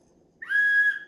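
A referee's whistle gives one loud, sustained blast, starting sharply after a brief quiet moment and holding steady for about half a second before it fades, with no voices over it.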